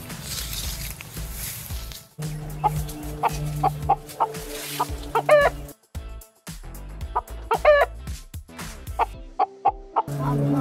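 Several chickens cluck and squawk close by in a village, in short repeated bursts with brief pauses, the calls rising sharply at times as the birds are chased and handled.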